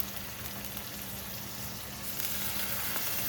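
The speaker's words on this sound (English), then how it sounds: "now the skillet is pretty hot. I'm just gonna lay the pieces of ham" Ham slices laid in a hot skillet sizzle and fry steadily, a soft continuous crackle that swells slightly toward the end, with no talking.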